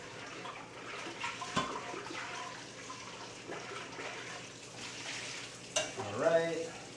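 A pot with impurities on its bottom is rinsed out with water in a kitchen while making beef noodle soup, giving steady splashing and sloshing with a sharper clank near the end.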